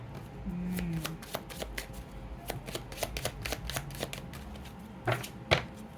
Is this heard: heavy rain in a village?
no